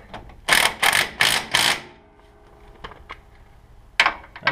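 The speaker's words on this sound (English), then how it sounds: "don't know how I ever did work without an impact gun like this before" An impact gun used on a John Deere L120 lawn tractor transmission job fires four quick loud rattling bursts close up, then a pause with faint clicks and two more short bursts.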